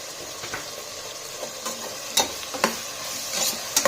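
A spoonful of ginger-garlic paste frying in a pan gives a steady, close sizzle, with a few sharper clicks of a spoon stirring near the end and no one talking.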